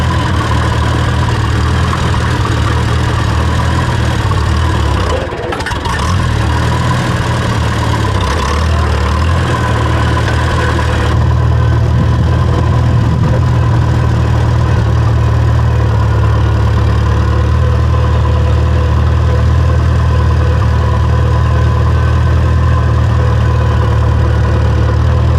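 An early-1950s Farmall tractor engine idles steadily, a loud, close, constant low throb that runs without a break.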